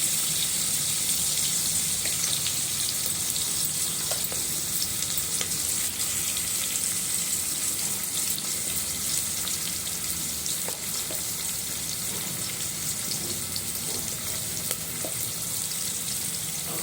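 Shredded cabbage with turmeric fries in a pan for cabbage pappu, a steady loud sizzle and hiss that continues evenly throughout with faint stirring scrapes.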